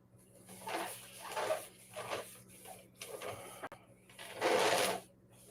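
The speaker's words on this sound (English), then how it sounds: "My normal turntable out here, it's much quieter. This one's rather noisy." A noisy bonsai turntable grinds and whirs in several uneven bursts, each lasting about a second, with short pauses between them, heard fairly close and a little muffled.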